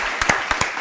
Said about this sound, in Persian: دوستا تشویق داشته باشین